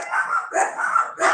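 Dogs bark in short, loud, close bursts, about four yips and barks in quick succession with brief gaps between them.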